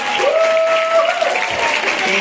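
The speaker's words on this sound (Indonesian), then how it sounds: "Yang setuju beri tepuk tangan" Congregation clapping at a church service, a short burst of applause with a sustained sung or spoken tone running through it and crowd noise underneath.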